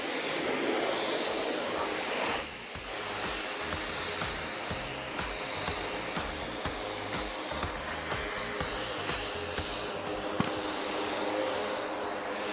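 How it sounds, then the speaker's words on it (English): A military jet maneuvers above the Aero India air show at Yelahanka, a distant, sustained engine roar with a wavering whine as it turns, steady and fairly faint. "The aircraft is now turning left to position for its next maneuver"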